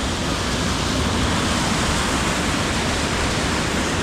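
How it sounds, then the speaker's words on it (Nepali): A constant, dense roar of rushing water from Rupse waterfall in Mustang, Nepal, loud and unbroken, heard up close. "पछाडिपट्टि मेरो पहाडी झरना देख्न सक्नुहुन्छ"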